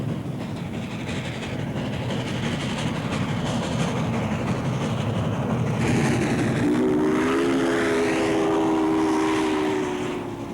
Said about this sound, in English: Putting on a real show for us with a plume of smoke is the Denver local train number 52